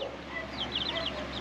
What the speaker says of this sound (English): chickens are chickens, but they're constantly kept inside the coop,